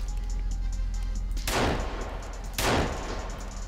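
Two loud shotgun blasts in the survival game Sons of the Forest, each a sharp booming crack with a short decaying tail, about a second apart over a low game ambience.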